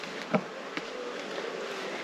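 Honey bees from a swarm buzz in a thin, continuous drone, with a couple of insects flying close past the microphone in brief louder bursts.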